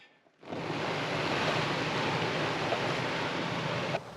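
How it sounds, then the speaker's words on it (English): A hose sprays water hard onto the roof of a Jeep Wrangler JK during a leak test, a sudden, steady, loud hissing rush of water drumming on the top, stopping abruptly after a few seconds. "He's gonna spray the top of the Jeep, simulate rainfall"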